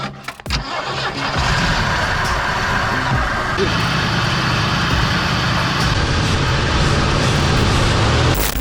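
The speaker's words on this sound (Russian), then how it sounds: "Несмотря на то, что Ford простоял в лесу 28 лет без движения, мужчинам все же удалось запустить двигатель" A Ford left sitting in a forest for 28 years cranks with a few sharp turnover bursts, then catches and settles into a loud, rough, steady idle up close.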